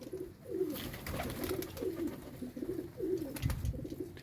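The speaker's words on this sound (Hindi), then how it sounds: "वो देखें शिकरा कबूतर आया, गुड़क रहा है" A Shikra pigeon coos softly in a repeated, rolling rhythm, about five coos in quick succession, heard close but faint over light background noise.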